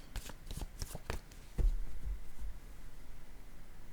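Playing cards riffled and shuffled close by, a quick run of sharp flicking snaps followed by a softer settling rustle, with no talking.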